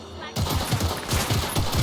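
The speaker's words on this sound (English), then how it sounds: "Heard shots." A short burst of rapid gunfire in Cyberpunk 2077 starts abruptly after a moment of quiet, repeated shots cracking in a quick rhythm at moderate loudness.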